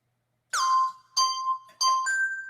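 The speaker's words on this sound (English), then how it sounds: "These musical mushrooms are playing a keyboard through electrical senses." Electronic keyboard tones triggered by mushrooms through electrical sensors: three separate bell-like, glassy notes with clear pitches, each ringing briefly and then fading, with no other sound between them.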